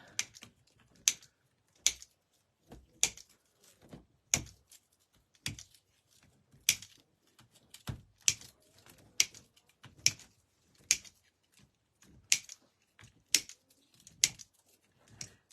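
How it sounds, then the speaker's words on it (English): Plastic zip tie tails being snipped off while assembling a sunflower wreath, a series of sharp, close clicks and snaps at a steady, fairly quick pace with short quiet gaps, no talking. "let me cut off the, oops, the zip tie tails."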